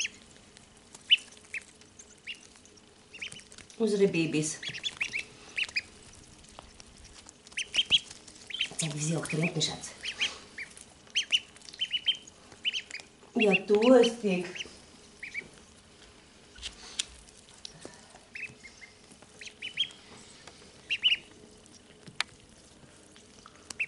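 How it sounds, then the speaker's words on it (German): Small ducklings drinking in a garden give bursts of soft quacking and peeping at close range, scattered among sips and splashes, while someone speaks gently to them in German. "Meine Tierchen, unter anderem auch die kleinen Enten."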